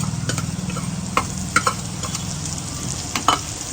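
Garlic tipped into a pan of raw mango curry and stirred, with a steady close sizzle of frying under scraping spoon strokes and a few sharp clinks against the pan.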